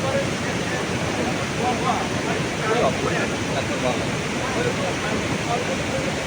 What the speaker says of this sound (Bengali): আর আমি এখন ফলসটা দেখাই, দেখুন কি অসাধারণ জল, তার অপূর্ব শোভা নিয়ে পর্বতের উপর থেকে নেমে আসছে